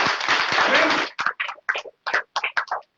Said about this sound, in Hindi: अच्छा, देखिए जोरदार तालियां दीजिए।